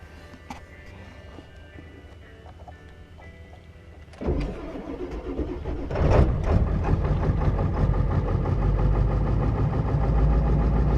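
A Ford F-250 Power Stroke diesel truck cold starts after a quiet wait with faint clicks. The engine cranks and catches around four seconds in, then revs up and settles into a loud, rough, steady idle close by.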